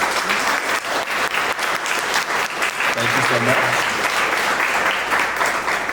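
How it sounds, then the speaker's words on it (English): A loud, dense round of audience applause for board members standing at a storytelling event, steady clapping throughout, with a brief word of thanks spoken over it. "please stand up, please, so we can give you a round of applause and just thank you for your support"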